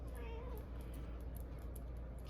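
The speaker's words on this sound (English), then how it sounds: "go meet the cat" A cat gives a short, faint meow early on, then the sound continues as a low, steady background with no talking.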